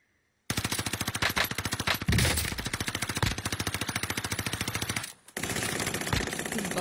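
Light machine gun in a video game firing long rapid sustained bursts, loud and close with an even rattling rhythm, pausing briefly near the end before resuming.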